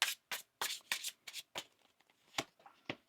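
Tarot cards are shuffled in several quick, crisp riffling bursts close up, with short pauses between them.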